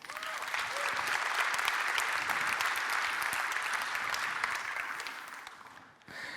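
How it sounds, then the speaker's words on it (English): Audience applause at a RustFest-brand tech conference, a dense steady wash of clapping from a large room that holds loud for about five seconds, then thins and dips before a brief final burst. "so also give a clap to those"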